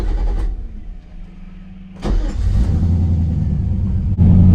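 Chevy squarebody truck with an LS swap engine rumbles along while driving, its low steady drone stepping up louder in surges as it picks up revs.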